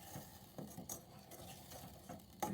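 Butter and brown sugar are stirred together in a pan as they melt into caramel, giving a soft, steady scraping and clinking of a utensil against cookware with faint sizzling underneath, all close by and without talk.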